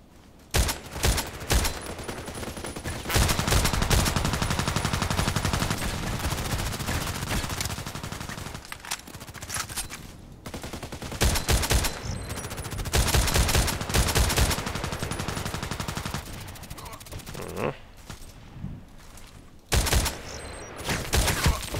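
Gunfire from an SVD-S sniper rifle with scope in a shooter game, among dense overlapping battle shots and bursts running nearly nonstop, loud and busy with brief lulls between volleys.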